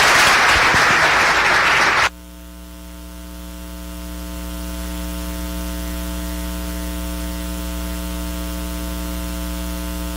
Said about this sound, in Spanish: Un aplauso para Juan Carlos.